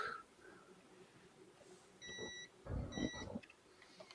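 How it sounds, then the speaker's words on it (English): Faint electronic beeping from a toaster oven in a quiet room, two short pairs of thin tones a second apart, followed by some soft handling noise. "What is that beeping noise?"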